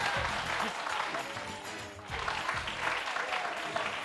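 Audience applause at a French talk show, a dense wash of clapping that dips briefly midway and then swells again, moderately distant with faint voices underneath.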